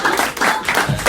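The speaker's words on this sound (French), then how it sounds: "Il y a Daniel qui applaudit dans le public, elle devrait peut-être pas." An audience member applauds at a live talk-show taping, a short burst of loud, dense clapping lasting about a second.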